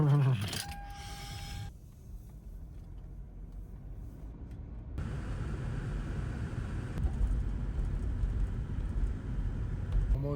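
Toyota 4Runner driving up a hill on a very cold day, a steady low engine and road rumble from inside the cabin that swells louder and fuller partway through and stays constant to the end.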